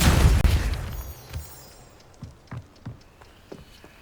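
A Depulso force spell is cast in Hogwarts Legacy, a loud burst at the start followed by a string of short, scattered thuds and pops that fade quieter.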